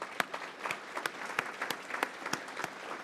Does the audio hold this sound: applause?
yes